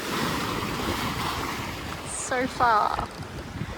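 Wind and rolling waves rush around a sailboat flying its spinnaker, steady broadband noise with brief harmonic squeals near the end, and a voice speaks briefly over it.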